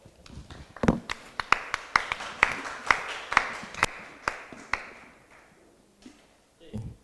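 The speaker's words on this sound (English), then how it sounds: "Give them a round of applause." A few people at a live debate event clap in slow, sparse, uneven claps that fade out after several seconds. The clapping is close and fairly quiet.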